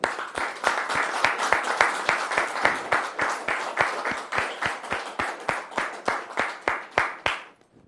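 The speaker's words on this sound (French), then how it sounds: "Merci de recevoir maintenant la sœur Aurélie sous vos applaudissements" An audience welcomes Sister Aurélie onto a French-language stage program with steady, rhythmic unison clapping that keeps an even beat before tapering off and stopping.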